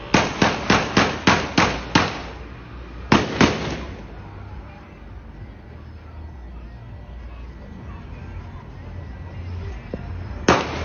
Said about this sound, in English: I wanted to listen to what happened with the shootout with the gunmen and the police